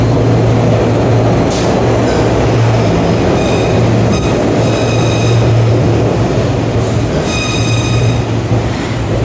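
A loud, steady rumble of a Broad Street Line subway train fills a Philadelphia station, with a droning hum and bursts of high metallic squeal from the wheels.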